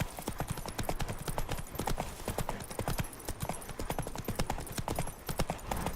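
Horse hooves clip-clop at a steady gallop in the Witcher 3 game, a fast, close, continuous rhythm of sharp thuds that runs the whole time with no voices over it.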